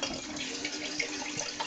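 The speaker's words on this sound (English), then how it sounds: "Then you have to put vinegar in." Vinegar is poured into a homemade wizard's brew in a steady, faint, trickling stream of liquid, with splashing and gurgling and no voices.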